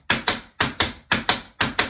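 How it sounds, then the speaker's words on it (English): Tap shoes strike a hard floor in a crisscross shuffle, crisp paired taps in a steady repeating rhythm, four pairs of clear metallic clicks, close and alone with no talking. "our crisscross shuffle is this shuffle"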